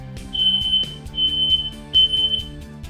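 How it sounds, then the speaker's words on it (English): A smoke alarm sounding in a home kitchen during cooking, repeated high piercing electronic chirps in short bursts, fairly loud against light kitchen clatter, with no talking. "And sometimes the fire alarm."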